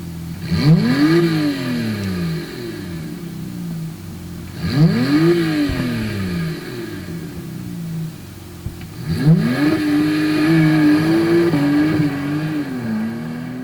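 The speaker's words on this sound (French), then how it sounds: "Nous avons écouté le bruit de son flat 6 et comme l'on aurait pu le croire, le turbo ne gâche pas la fameuse sonorité du moteur." A Porsche 911 991 phase 2 Turbo's flat-six engine and exhaust revs hard three times, each pull rising then falling back, the last held higher and longer, loud and close with no talking.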